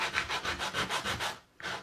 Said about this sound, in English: there's two sides of the wood that you're really going to want to kind of sand a little bit